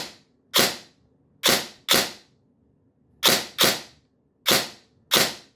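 An airsoft gun with a Solink brushless motor on an 11.1V LiPo battery fires on semi-auto, giving eight sharp, snappy cracks in quick pairs with brief pauses between them, close and clear with no talking.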